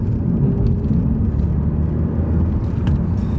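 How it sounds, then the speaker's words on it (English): Car engine rev matching on a country road, then pulling away under acceleration; a close, loud, steady low rumble fills the whole short stretch with no talking. "Just normal rev match, and off we go."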